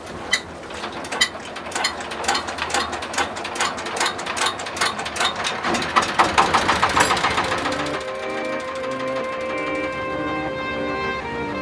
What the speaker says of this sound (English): From here we get in a boat.